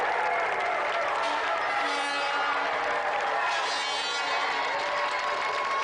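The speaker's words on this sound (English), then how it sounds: "that's another round of applause again for Auntie Marisha and Letty Edwards" Loud, sustained studio audience applause with cheering mixed in, a continuous wash of clapping from a TV game show crowd.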